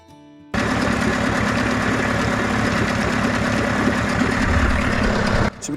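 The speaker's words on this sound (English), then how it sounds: "we got the engine back in the tank and we fired it up and it's pumping perfectly now" A Mercury 25 outboard motor runs in a test tank, starting abruptly and holding a loud, steady rattling idle with rapid mechanical ticking, close-up and alone before cutting off near the end.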